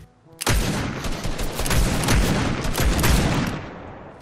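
Gunfire in a Star Wars game mode of Fortnite Battle Royale breaks out suddenly and rattles on as sustained, loud, rapid shots with heavy booming impacts, tapering slightly at the end.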